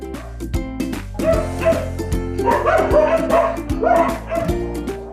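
Dogs at an animal shelter in Mukachevo bark and yip in quick bursts, near and loud, with some whimpering mixed in over a constant low hum.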